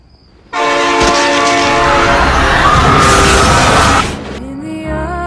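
A train passes close by, its loud, sustained horn blaring for several seconds over rumbling wheels before it cuts off, leaving a lower rolling rumble.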